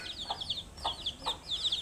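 Hens cluck outdoors in a village yard at dusk, a close run of short, quick clucks in several bursts, with no voices.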